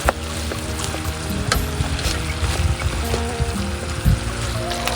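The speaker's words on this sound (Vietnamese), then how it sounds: "Mình nó đảo tới đảo luôn vậy nè, mình để lửa nhỏ nhỏ thôi, cho nước sốt mình nó thấm vô gà." Chicken thighs sizzle in fish sauce over low heat while a utensil stirs them, giving continuous bubbling and frying with occasional scrapes and clacks against the pan.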